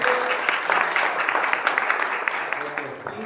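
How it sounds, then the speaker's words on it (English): An audience applauding at a youth event, steady dense clapping from many hands throughout, loud and close, fading slightly at the end, with a voice briefly heard underneath. "Round of applause."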